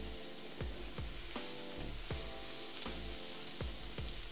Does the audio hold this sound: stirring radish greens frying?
yes